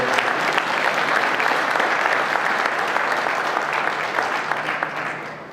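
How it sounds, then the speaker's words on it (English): An audience at a cattle-breeding workshop on pulmonary arterial pressure applauds, a dense, loud, sustained clapping that holds steady and then tapers off near the end. "a nice round of applause for their work"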